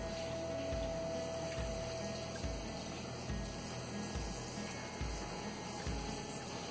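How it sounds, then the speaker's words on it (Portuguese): Breaded eggplant strips fry in hot oil, giving a steady, dense bubbling and sizzling with regular low pulses and no talking. "a hora que você coloca assim, começa a borbulhar, já tá no ponto de colocar. Aí a gente vai colocando todas as tirinhas."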